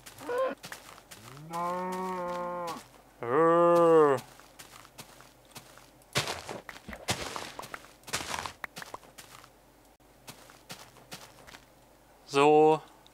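Cows mooing in the Minecraft video game, several long drawn-out moos spread among the clicks and thuds of gameplay, with a final moo near the end and no talking over them.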